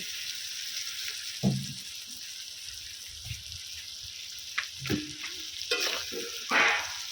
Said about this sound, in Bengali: আলুটা দিয়েও কিন্তু খুব ভালো করে কষিয়ে নেবো